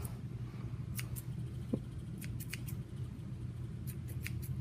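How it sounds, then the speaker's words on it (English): Scissors snip the yarn ends of a crocheted tassel, several quick close crisp cuts in small clusters over a quiet room hum. "just trim it off with the scissors"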